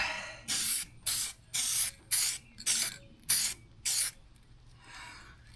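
Spray paint on a bubbled rust repair, laid down in a light first coat: seven short, close hissing bursts in quick succession, each about half a second, then a fainter final spritz.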